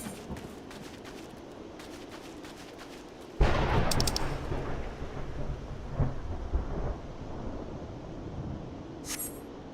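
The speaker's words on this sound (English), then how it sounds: "Hearing the lightning." Thunder and rain in the Final Fantasy XIV game: after a patter of rain, a sudden loud thunderclap cracks and rumbles on for several seconds, then settles back into steady rainfall.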